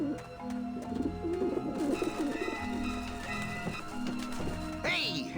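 Pigeons coo softly in repeated low burbling phrases within the video game Grim Fandango Remastered, layered with game music and someone talking over them, ending in a short bright effect.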